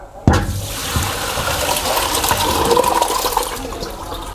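Cooked, clear sago pearls poured out in a wet, sloshing rush after a sharp start, a loud continuous splash and trickle of water lasting several seconds with no talking.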